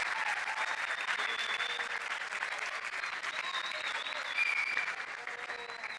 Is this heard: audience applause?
yes